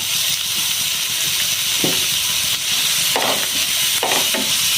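Onions and green chillies sautéing in a pan for a bitter gourd stir fry, a loud, continuous hissing sizzle with a few soft stirring thumps over it, heard up close with no talking.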